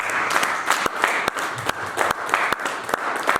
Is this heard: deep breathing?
no